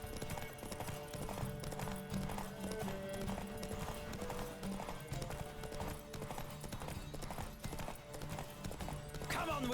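A horse gallops in The Witcher 3, its hooves drumming in a quick, steady rhythm close up for the whole stretch, under a layer of game music and ambience.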